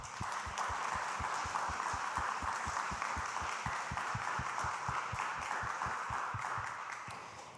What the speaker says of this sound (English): Please join me in a round of applause for everybody that presented this morning.